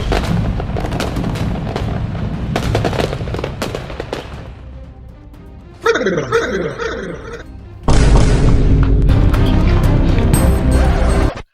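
Firecrackers burst in a village Diwali scene, sharp loud cracks and booms in rapid clusters with a whistling rocket streak and denser crackling bursts, while people speak between them.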